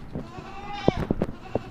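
A goat at a livestock market lets out a short bleat, followed by a few brief stuttering calls, close and moderately faint against quiet outdoor background.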